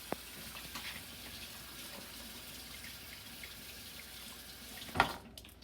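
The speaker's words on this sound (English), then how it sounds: "I'll get back to you when I'm done washing my hands" Water runs steadily from a kitchen tap during handwashing before cooking, a continuous hiss with no voices, ending in a sharp clatter near the end.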